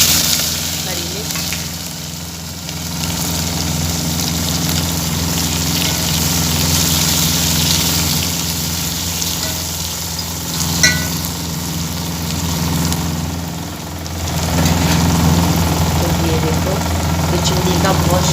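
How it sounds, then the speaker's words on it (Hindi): A kitchen chimney exhaust hood roars loudly and steadily in a home kitchen while onion and green chilli go into dal, a constant close-up whooshing drone filling the whole stretch. "चिमनी का बहुत शोर आ रहा है।"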